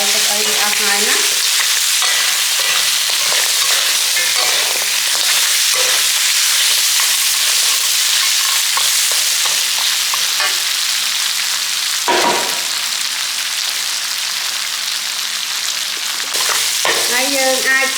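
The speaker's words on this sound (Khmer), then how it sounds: "ត្រឡប់ឡើងទៅយើងឆាឲ្យវាក្រៀមទៀតណាបងប្អូន" Pork ribs stir-fried with salt and chili in a hot pan, with continuous loud sizzling and frying hiss and scraping stirring strokes throughout, no voices.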